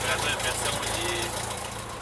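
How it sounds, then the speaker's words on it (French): A small airplane engine idles at an airfield in Mascouche with a steady low drone and a rhythmic pulse. It is fairly loud and continuous for the whole short stretch. "Le moteur maintenant démarré"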